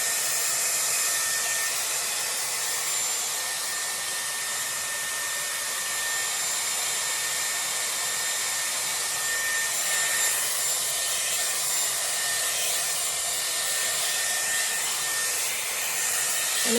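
A Dyson Airwrap blow-dries a section of hair wound on a round brush, giving a continuous, even, breathy whoosh close to the microphone that runs steadily with no pauses.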